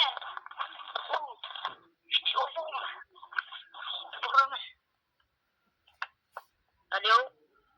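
A telephone rings nearby with a bright, warbling tone in repeated bursts, then goes quiet and gives a few short isolated blips.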